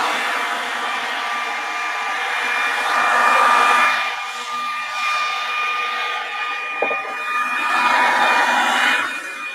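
A food processor or blender whirs steadily and loudly for a long stretch, blending herb breadcrumbs for a crust on a rack of lamb, the motor droning with slight swells and no voices.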